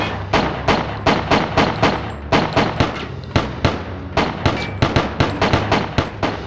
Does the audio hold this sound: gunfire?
yes